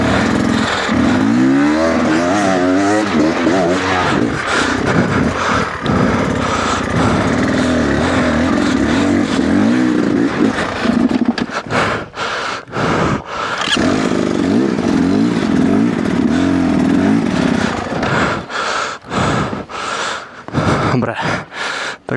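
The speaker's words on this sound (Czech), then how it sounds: "Vyjela sama ta motorka, hej." An enduro motorcycle revs and labours continuously on an Alpine off-road trail in Austria, loud and close, with the engine note rising and falling and breaking into choppy bursts near the end.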